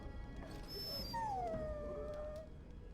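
A dog in the Dragon Age Origins video game whines with long, high, sliding whimpers, one of them drawn out and falling in pitch, heard over a steady low rumble of game background sound.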